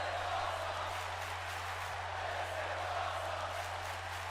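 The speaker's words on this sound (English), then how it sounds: "Crowd getting into this." Crowd noise from a WWE 2K19 wrestling video game match, a steady broad roar of cheering under a low hum, continuous and even throughout without distinct peaks.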